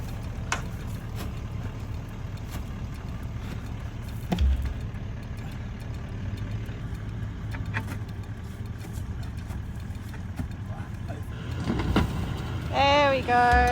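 A 4x4 towing an off-road caravan in Kakadu, Northern Territory, its engine running with a steady low drone while the wheels spin, close and continuous, with people talking over it and a whining rise near the end.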